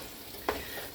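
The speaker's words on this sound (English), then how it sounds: "I'm just gonna finish browning up the beef" Ground beef browning in a pan, a soft steady sizzle with a brief stir or scrape in the middle, close and fairly quiet.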